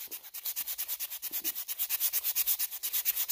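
A hand sander rubs back and forth along the edges of a maple bowtie inlay in a fast, regular rhythm of short raspy strokes, close and moderately loud, with no voices.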